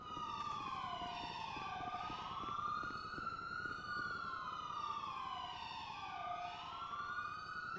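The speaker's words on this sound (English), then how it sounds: "There are sirens around me, I'm sorry." Police sirens wail continuously in a roleplay game scene, rising and falling in overlapping sweeps at moderate volume, with no talk over them.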